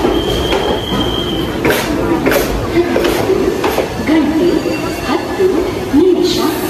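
An express train passing in the opposite direction, heard from inside a moving train, with a steady rumble, screeching wheel squeals and rattling wagons over a few seconds.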